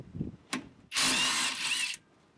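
An air-powered or electric impact tool spins off an old, sticky brake caliper bolt on a Rover SD1 2600, one loud sustained burst of about a second, with a few metallic clicks of handling before it.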